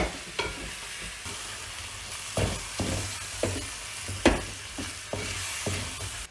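Tomatoes fry in a hot pan for Kerala-style pork varattiyathu, a steady close sizzle broken by repeated scraping stirs of a spoon against the pan, with no voices.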